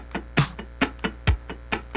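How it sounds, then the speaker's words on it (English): Muted funk guitar scratches played as even, straight sixteenth notes over a drum machine beat, producing a steady percussive chatter of short clicks with heavier pulses on the beats, close and fairly quiet. "If I scratch 16ths with the drum machine"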